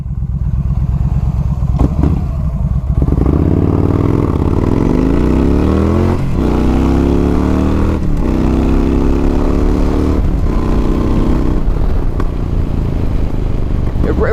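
A 2014 Yamaha Stryker 1300cc cruiser motorcycle accelerates on a road test ride, its engine note rising steadily through several gear shifts, loud and close with a constant rumbling drone.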